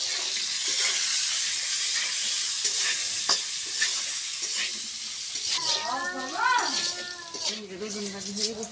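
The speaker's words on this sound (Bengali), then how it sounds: "বেগুন ভাজি হয়ে গেছে, বেগুন ভাজি নামাবো।" Eggplant slices sizzle in hot oil in a pan while being stirred, a bright steady frying hiss with scraping touches; a voice speaks briefly near the end.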